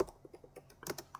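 Keystrokes tapping on a computer keyboard in a short irregular run of clicks, with a quicker cluster of presses near the end, close and fairly quiet with no talk.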